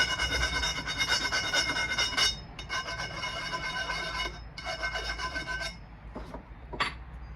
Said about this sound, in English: Let's deburr it.